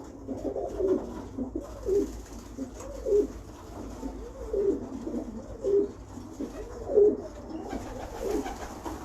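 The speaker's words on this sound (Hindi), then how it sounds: "सीधे कुंदे का कबूतर है" Breeder pigeon cooing in repeated rolling phrases, about one every second or so, fairly close and steady against a low background rumble.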